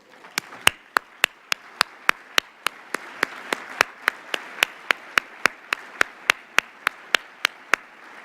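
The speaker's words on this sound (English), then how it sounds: "please stand and let's give them another round of applause" An audience at a Long Beach mayor's 100-day speech claps in slow, evenly spaced beats for the commissioners, more than two dozen sharp, loud claps ringing out alone.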